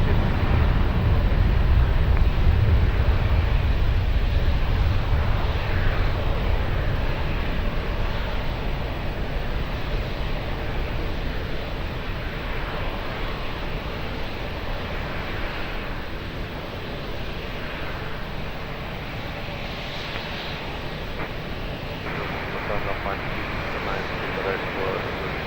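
An airplane takes off at Lisbon Airport, its engine roar loudest at first and then fading as it climbs away, while radio tower chatter plays over it throughout.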